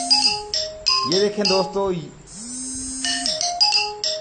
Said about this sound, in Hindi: इसकी जो डिफ़ॉल्ट इमो रिंगटोन है वही यानी कि बज रही है